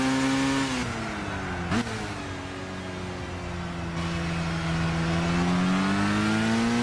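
A Japanese 1990s rotary-engined car in the racing game Gran Turismo 6 drones with a smooth, steady engine note that dips briefly near two seconds and then climbs again as it revs. The sound is loud and close, with no voices.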